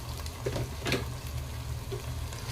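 Onions and tomatoes sauté in a pan with a soft, steady sizzle and a few brief stirring scrapes, close but quiet.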